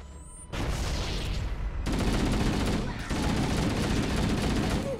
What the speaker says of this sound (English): I'm going to grenade some chumps